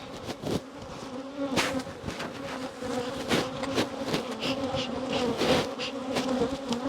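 Honey bee colony buzzing loudly and steadily as bees are tapped out of a box in late summer, a dense close drone with a few knocks from the tapping.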